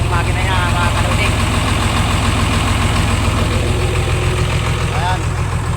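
A truck's engine idles close by with a steady low rumble and chugging, and someone talks over it throughout.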